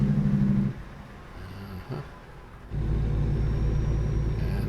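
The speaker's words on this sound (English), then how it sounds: "So this engine uses the stock SCS engine sounds." A truck engine in American Truck Simulator, using the stock SCS engine sounds, rumbles at a low idle and then drops into a quieter, uneven patch before the heavy drone returns strongly.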